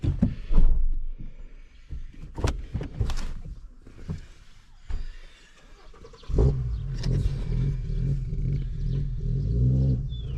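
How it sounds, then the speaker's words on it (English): A 2011 Ford Fiesta with a no-start fault cranks without catching: uneven churning bursts, then a longer steady low whirring turnover, close and loud, with no speech. "so it tries to turn over, but it doesn't start"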